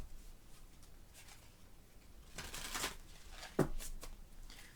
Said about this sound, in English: A little bit easier to shuffle because it's sort of cards are waxed, so that helps.